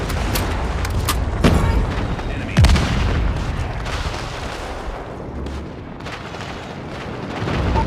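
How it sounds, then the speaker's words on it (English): Booming airstrike blasts in a Call of Duty match roll loudly through continuous game noise, with heavy hits near 1.5 and 2.6 seconds amid scattered gunfire-like bursts. "Friendly airstrike incoming."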